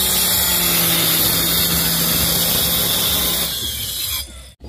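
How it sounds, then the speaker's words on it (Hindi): A cutter machine slices through wooden window frame pieces at a home building site, a loud sustained whining grind with a high squeal that runs for several seconds, then drops away as the blade winds down. "ये देखो ये कटर मशीन से काट रहे हैं तो आसानी हो रही है"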